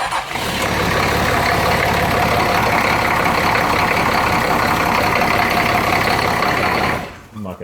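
Engine in a workshop held at raised idle, a loud steady rumble right up close that drops off sharply near the end.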